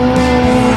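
A Hyundai IONIQ 5N electric car drifting on a hydraulic side brake, giving a loud, sustained tire squeal with a steady tonal whine throughout.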